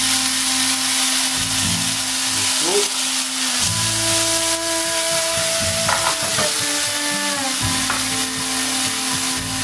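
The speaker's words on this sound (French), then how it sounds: "D'abord, je vais faire revenir un peu dans la poêle." Green tea leaves sauté in a very hot frying pan, sizzling under continuous stirring and scraping, with humming tones and scattered clatter over about ten seconds.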